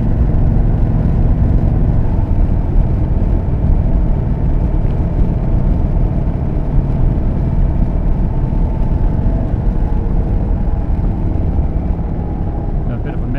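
An Indian Chief motorcycle engine rumbles steadily while riding, its revs rising and falling as the gears shift between fifth and sixth, with constant wind and road noise throughout.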